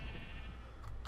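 A sheep bleats once in the Minecraft Feed the Beast game, a short, wavering bleat.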